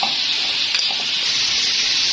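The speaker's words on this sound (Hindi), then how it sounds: "ये हमारे ये फ्राई हो रहे हैं।" Steady broadband sizzle of chicken changezi ingredients frying in a pan, loud and continuous with a few faint clinks near the start.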